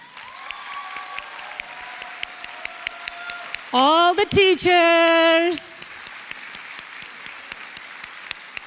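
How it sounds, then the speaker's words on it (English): Graduation-ceremony audience applauding the school staff as they stand: scattered, moderate clapping runs throughout, interrupted midway by a loud, sustained tonal blast like an air horn or cheer, with a voice speaking briefly. "May I ask our MEGS staff, please stand so you all can give them a round of applause."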